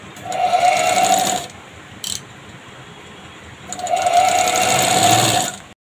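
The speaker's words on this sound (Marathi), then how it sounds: "दुसरी बाजू आता मी अशी शिलाई मारून घेते." A sewing machine stitches the side seam of a princess-cut blouse in two loud, close bursts of about a second each, separated by a quiet pause with a brief click in between.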